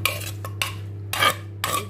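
A spoon stirs pickled shrimp fish sauce with sugar in a bowl, making a few short scraping, clinking strokes at an uneven rhythm over a steady low hum, close and clear.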